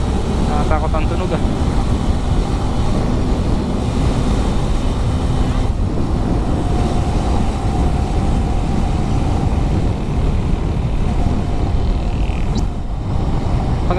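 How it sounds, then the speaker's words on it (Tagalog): A truck follows close behind a vehicle on a highway on the Manila–Bicol route, giving a loud, steady road roar that rumbles on without a break. "Nakakatakot yung nakasunod na truck. Nakakatakot ang tunog"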